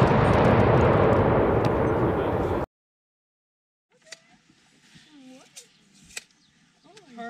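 Demolition charge going off during a paratrooper exercise: a loud, broad roaring blast that cuts off abruptly into silence, followed by faint voices and scattered noises.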